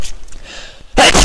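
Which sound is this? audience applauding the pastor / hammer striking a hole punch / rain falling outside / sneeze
sneeze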